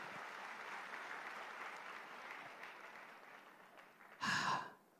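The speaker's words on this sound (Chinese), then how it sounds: "再次借大家的掌声送给在朝在野所有深明大义的政党人士" An audience at a national college debate final between two Malaysian universities applauds for political party members. The clapping is faint and distant but steady, with a short louder burst near the end.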